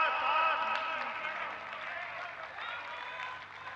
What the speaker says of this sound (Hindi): हम सब जोर से तालियों के साथ